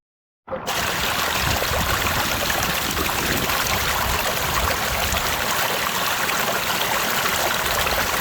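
Creek water flows through a green-mat gold sluice on an Alaska claim. After a brief silence it starts abruptly as a loud, close, steady rushing and gurgling that continues unbroken to the end.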